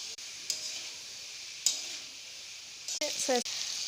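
Boiled pasta stir-fried in oil with vegetables in a pan, giving a soft steady sizzle with a few clinks and scraping strokes, including a quick run of scrapes near the end, with no talking.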